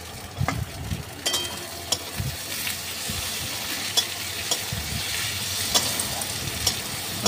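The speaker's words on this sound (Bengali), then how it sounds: "রসুনটা দেওয়ার পর ভালো করে নেড়ে চেড়ে নিয়ে টমেটো দিয়ে ভালো করে নাড়বো।" Garlic and tomato being stirred as they fry in a pan for a chicken curry: continuous close sizzling and hissing with frequent scraping and clinking strokes of a spoon against the pan, and no voices.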